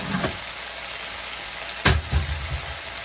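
Pasta sauce going into a hot pan of browned vegan meat and vegetables, with a soft steady sizzle followed by a sudden splashy pour and a short bubbling hiss, close up and with no one talking.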